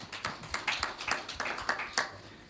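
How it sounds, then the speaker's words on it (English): Applause from an audience at a government engagement with traditional leaders in North West, a brief burst of steady clapping filling the room. "A big round of applause."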